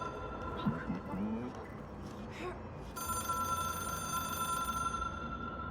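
A telephone rings with a steady, bright electronic tone that starts partway through and holds to the end, over a busy background of murmur and room noise.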